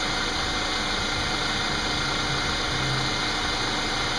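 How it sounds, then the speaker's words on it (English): Mercedes W202 with an M111 inline four-cylinder engine, idling steadily after a water pump replacement, a close, even running hum with a faint rhythmic ticking and no voices. "And this engine is a hell of a lot quieter now."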